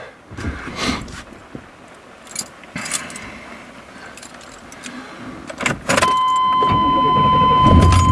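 Keys jingle and rattle up close, then a pickup truck engine cranks and catches, settling into a steady, loud idle nearby.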